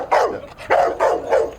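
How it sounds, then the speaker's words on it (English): A dog in a 1984 English drama barks three or four times in quick succession, loud and close, with short gaps between the sharp yelping barks and no talk over them. "Can you control your dog a minute?"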